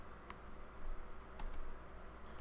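Quiet clicks of a computer keyboard being typed on come in a few irregular bursts over a faint background hum.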